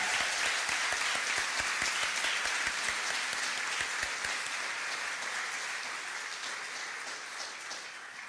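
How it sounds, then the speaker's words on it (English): Sustained applause from a school graduation audience, dense steady clapping that fills the hall throughout and tapers slightly toward the end, with no voices over it. "Let's give a round of applause to all the teachers and community members"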